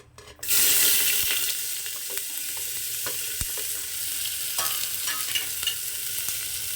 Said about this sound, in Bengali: তেল গরম হয়ে যাওয়ার পরে আমি এর মধ্যে দিয়ে দিচ্ছি পেঁয়াজ